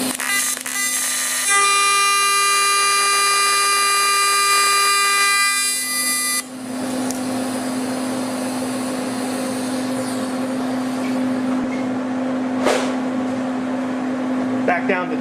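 An AC TIG welder runs at 300 amps and 200 hertz on aluminum, making a loud, steady buzzing hum with a high whine. The whine drops away partway through and the harsh arc buzz carries on to the end.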